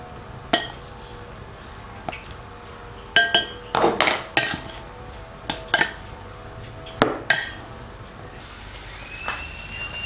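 Beef being mixed with cornstarch, flour and salt in a bowl, with scattered sharp clinks and scrapes of a utensil against the bowl, some in quick clusters, over a quiet background without talk.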